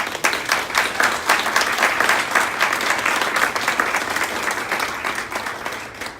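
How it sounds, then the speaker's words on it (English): An audience applauds at a school board meeting in Wayne County, Georgia, a steady, dense round of clapping that fills the room for about six seconds before tapering slightly at the end. "Let's give her a round of applause."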